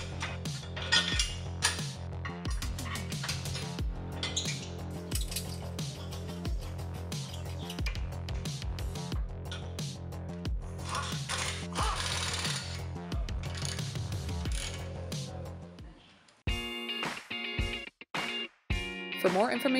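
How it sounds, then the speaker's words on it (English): Bolts are reinstalled on a Steinjager steering box guard with a power tool, bursts of whirring drilling and metallic clanks, close and loud, ending in sharp intermittent clicks. "Put the guard in place and reinstall the bolts."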